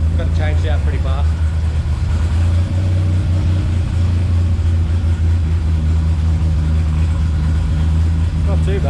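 A blown V6 turbo engine idles early in the morning after a cold start, a loud, steady, close low drone that runs throughout, with a voice faintly heard over it.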